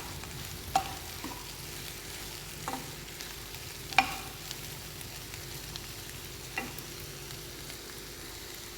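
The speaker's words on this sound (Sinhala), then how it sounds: "මේ ටිකත් එකතු කරලා අපි චුට්ටක් කලවම් කරගමු." Cabbage and leeks being stirred in a pot, a soft continuous scraping with a few sharper clinks of the spoon against the side, quiet and close, with no talking.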